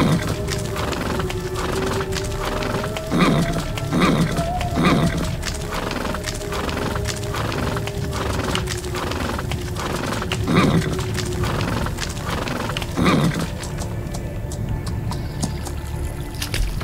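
Game horses on a slippery stone trail neigh and whinny repeatedly in a gamebook adventure, with rhythmic clip-clop hooves and a sustained musical tone running beneath.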